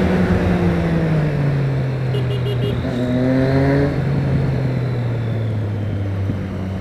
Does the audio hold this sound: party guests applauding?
no